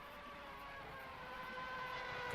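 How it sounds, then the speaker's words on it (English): Red Bull Holden Commodore V8 race car in Assetto Corsa, a steady droning engine note with tonal harmonics, held continuously and slowly rising in loudness, heard alone without talk. "You can hear the Commodore in the background."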